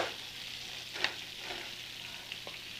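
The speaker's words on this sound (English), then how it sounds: "and saute the shrimp." Shrimp sautéing in melted butter and olive oil, a soft, steady sizzle with a few light stirring clicks and taps, fairly quiet throughout.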